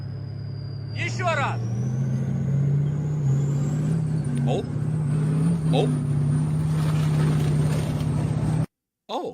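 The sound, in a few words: tank engine of the 54th Mechanized Brigade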